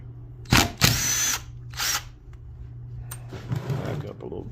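A power drill whirs in several short bursts while backing screws out of an old dehumidifier's compressor during scrapping, loud and close, with pauses and faint handling noise between runs.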